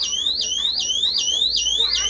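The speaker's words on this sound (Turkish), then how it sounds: "alarm ötmeye başlar" Motion detector alarm sounding indoors, a loud electronic siren sweeping upward in rapid repeated whoops, about five cycles in quick succession without pause.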